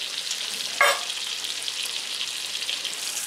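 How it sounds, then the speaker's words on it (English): Bacon frying in butter in a pan, a constant bright hiss of sizzling fat with one short sharp pop or crackle near the start, no voices. "I'm actually cooking mine in butter, proper butter, not margarine"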